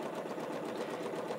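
A sewing machine chain-pieces quilt squares with a steady, fast, faint mechanical whir and no pauses.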